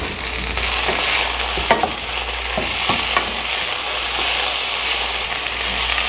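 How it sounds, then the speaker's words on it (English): Potatoes sizzle and crackle steadily in a hot pan, with a few scraping stirs breaking through the constant frying hiss. "So as you can see, the potatoes are a little bit brown. It's frying up really nice."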